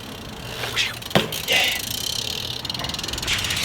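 A BMX bike rolls along a straight line, its freewheel clicking and ticking rapidly with a few light clunks from the frame, close and fairly quiet.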